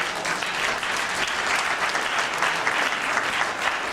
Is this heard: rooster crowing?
no